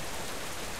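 Rain in the zombie horror video game Deadlight: a steady, dense hiss of falling rain with no distinct drops standing out, fairly quiet and continuous throughout with no voices.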